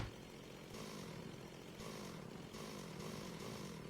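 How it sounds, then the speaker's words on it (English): In the Minecraft modpack FTB Evolved in Expert Mode, a video-game chainsaw drones steadily with a buzzing, engine-like tone. It surges in regular revving pulses about every second and a half, with no other sound. "But yay, chainsaw."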